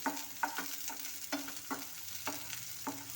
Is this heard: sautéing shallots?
yes